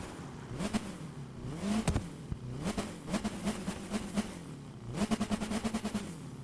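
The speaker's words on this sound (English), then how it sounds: "one thing I do want to show is also going to be that engine sound" A four-cylinder Saleen S1 GT4 race car engine in the video game The Crew 2 revs up and down repeatedly in bursts, with throttle blips and sharp rising whines, loud and close with no talking.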